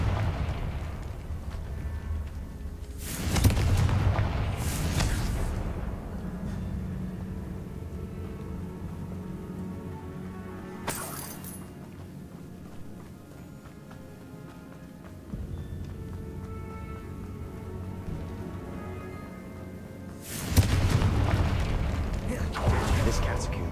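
Confringo fire spells blasting in Hogwarts Legacy, with several loud booming bursts spaced across a catacomb scene, separated by quieter ambient rumble and game sound.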